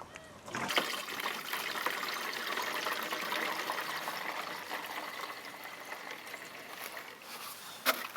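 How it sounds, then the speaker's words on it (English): Iron lawn treatment liquid is decanted into a sprayer, a steady, soft trickle and pour of liquid close by that runs continuously and eases slightly before a couple of brief knocks at the end. "is just decant it into the sprayer"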